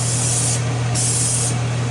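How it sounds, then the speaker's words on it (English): Two sustained hissing bursts of disinfectant spray hit a kitchen counter close by, each lasting about half a second over a steady low hum. "So get you out some disinfectant of some kind and spray on here."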